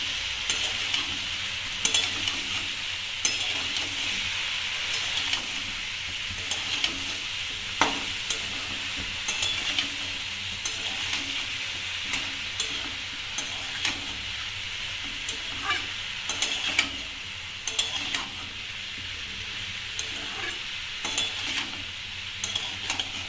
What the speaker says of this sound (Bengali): আর দিচ্ছি কাশ্মীরি লঙ্কার গুঁড়ো। এবার একটু নাড়িয়ে দেবো।